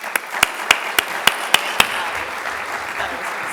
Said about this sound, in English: Now, will you join me in a round of applause for Maria?